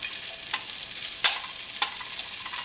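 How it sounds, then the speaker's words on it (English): Diced ham fries in hot oil in a pan for Chinese fried rice, giving a steady close sizzle with a few sharp utensil clicks as it is stirred. "I'm going to fry off my ham"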